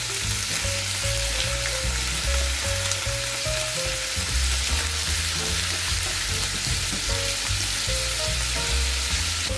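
A salmon fillet frying in a hot pan gives a loud, steady, continuous sizzle and crackle throughout, with no talking.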